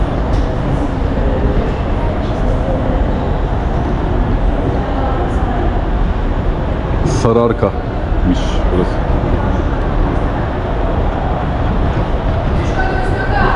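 A metro train in Kazakhstan rumbles along with constant loud noise and occasional clicks and squeals, while a person speaks briefly over it.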